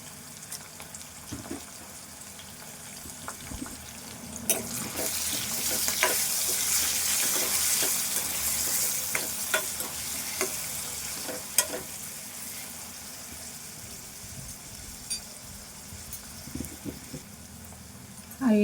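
Spices with turmeric frying and being stirred in a pan, for an egg dish: a steady, broad sizzle with repeated clinks and scrapes of the spoon against the pan, close and continuous, with no talking.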